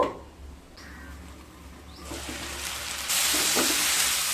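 Spices and vegetables sautéing in a pan for pumpkin pickle curry hiss and sizzle, the frying growing louder and brighter in two steps toward the end, with faint scrapes and no voices.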